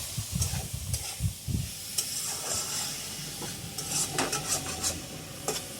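A spoon scrapes and stirs sattu frying in a pan with potato for a prawn curry. The clinks and scrapes come close and irregular over a soft sizzle, with brief clatters against the pan.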